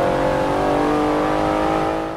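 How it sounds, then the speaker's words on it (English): A 2012 Porsche 911 GT2 RS accelerates hard in Forza Motorsport 7, its engine note holding a loud, steady, rising drone throughout without a break. "Acceleration in this car is amazing."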